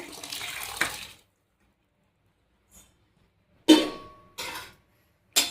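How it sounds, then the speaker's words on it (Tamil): Water is poured into a pot of cowpea rice in short splashing bursts, one near the start and a couple more later, separated by silence. "இந்த தண்ணியோட ஊற்றுங்க."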